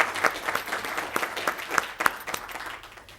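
At a school district board of trustees meeting, a modest audience claps for two honored people, with distinct individual claps standing out over a soft, fairly sparse patter at moderate distance.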